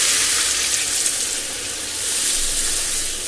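Water poured into a hot pan holding black cumin and green chilli gives a loud, steady hiss and sizzle, with broadband spray over the whole short stretch and no voices.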